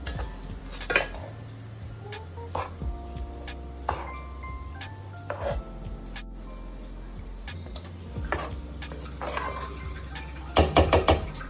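Ragi rava is mixed with curd and water in a bowl, giving repeated spoon clinks and knocks against the vessel and a brief splash of poured water, fairly close and with no talking.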